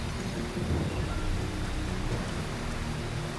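Steady rain pours down with a low rumble of thunder during an outdoor vote count on a reality competition island in Thailand, a dense constant hiss with no voices heard.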